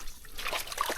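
Water splashing and trickling in a shallow, nearly drained lake, with soft irregular splatters up close at moderate level and no talk.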